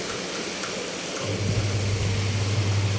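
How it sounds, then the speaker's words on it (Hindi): Steady rain hisses evenly throughout, with a low rumbling hum joining partway through; no voices are heard. "बारिश बारिश बारिश बारिश बारिश बारिश।"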